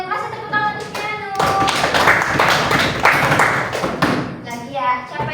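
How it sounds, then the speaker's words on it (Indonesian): Classroom students clap for a classmate after a poster presentation, a burst of many small hands slapping together in the middle, with children's voices talking before and after it. "Kasih tepuk tangan untuk Keanu."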